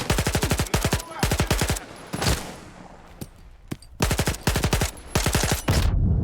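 Gunfire in S.T.A.L.K.E.R. 2 rattles out in several rapid automatic bursts, loud and close, separated by short pauses with scattered single shots between them.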